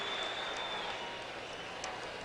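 A Dallas arena crowd applauds a slam dunk at the 1986 NBA Slam Dunk Contest, dense, steady clapping and cheering filling the space, with faint commentary beneath.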